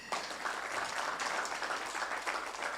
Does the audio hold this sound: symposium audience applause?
yes